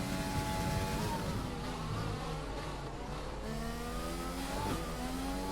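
A GP3 race car on a lap of the Azerbaijan Grand Prix street circuit, its engine screaming steadily and close, with pitch climbing through each gear and dropping at the shifts.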